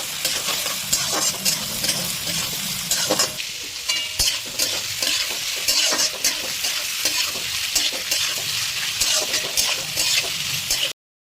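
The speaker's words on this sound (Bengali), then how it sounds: "আর এই সময় আমি দিয়ে দেবো কেটে রাখা পেঁয়াজ" Chopped onions fry in hot oil with whole spices for a Bengali mutton curry with potato, a loud continuous sizzle punctuated by frequent scraping stirs, ending abruptly.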